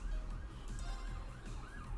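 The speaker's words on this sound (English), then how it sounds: "Now I can hear sirens." Sirens wail in the distance, their rising and falling tones drifting over a low, steady rumble of traffic.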